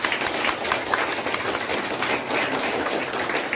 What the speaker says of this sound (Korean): 다 같이 박수를 올려드리겠습니다.